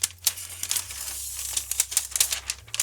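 A utility blade trims the excess tint film on an arched house transom window in quick, quiet crisp snips and crinkles, close and faint, with no talking.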